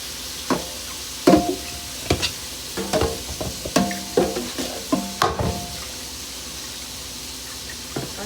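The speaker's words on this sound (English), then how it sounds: "Y'all hear that sizzle?" Seasoned shrimp frying in a pan, with a steady sizzle under repeated clatter and stirring, close and fairly loud, no talking.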